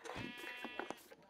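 A single Minecraft sheep gives one close, wavering bleat that fades out over about a second.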